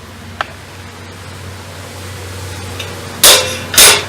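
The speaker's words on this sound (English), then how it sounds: "flip it over, hit it with a hammer a few times, it levels it back out" A hammer strikes a welded metal barbecue part a few times to level it, with a single faint tap followed by two loud, sharp, ringing blows close together near the end over a low background hum.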